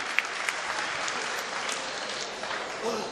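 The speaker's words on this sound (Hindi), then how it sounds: "एक बार जोरदार तालियां बजा दें अपने मेहमान के लिए।" An audience at a mushaira poetry gathering in Bhiwandi applauds a guest poet: steady, dense clapping from a crowd filling the hall, with a few sharper individual claps and faint voices underneath.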